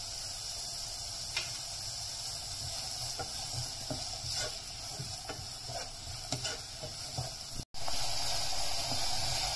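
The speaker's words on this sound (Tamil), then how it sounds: "எண்ணெய் சூடாயிடுச்சு. வெங்காயம் போட்டுக்கலாம்." Onions crackle and sizzle steadily in hot oil for Chettinad mushroom kuzhambu, a dense broadband hiss with scattered pops and small spatters, continuous and fairly close, with one brief dropout near the end.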